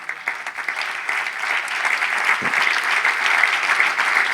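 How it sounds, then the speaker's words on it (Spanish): A church congregation breaks into sustained applause during a pastor's sermon, a dense wash of clapping that grows slightly fuller as it continues, with no speech over it. "denle al aplauso al Señor"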